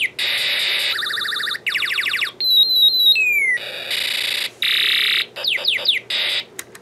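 A Snap Circuits kit with an alarm IC switching a space war sound chip gives loud electronic sci-fi effects: warbling tones, sweeping laser zaps and buzzy bursts that cut on and off in cycles.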